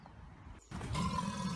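A crocodile's call played back from a recording: after a short hush, a loud, rough, low rumbling growl sets in and holds steady to the end.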